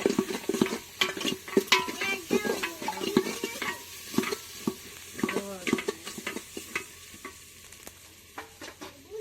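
Ginger garlic paste and onions frying in a pan for mutton curry while being stirred, with repeated scraping and clinking strokes of a spoon over a soft sizzle, close and uneven in rhythm.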